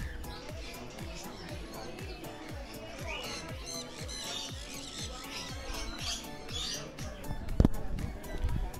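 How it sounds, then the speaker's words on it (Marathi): Colorful exotic birds and parrots roaming freely near the Statue of Unity, squawking and chirping in a busy, layered chorus beneath ongoing talk and crowd murmur, with one sharp loud thump near the end. "हे सगळे विदेशी पक्षी आहे आणि हे खूप मस्त मस्त पक्षी"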